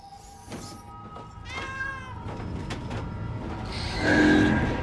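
A cat meows several times at close range, drawn-out and wavering, with one louder, higher yowl near the end over a steady background hum.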